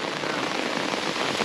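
Steady, dense rain pours down on hikers on a thru-hike trail among slippery rocks, a loud continuous hiss of drops hitting surfaces with no pauses.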